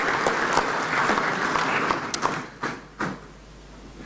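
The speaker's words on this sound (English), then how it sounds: "another round of applause, please." Applause from a crowd at an inter-parliamentary conference claps steadily, then thins out into a few scattered claps and thumps before fading.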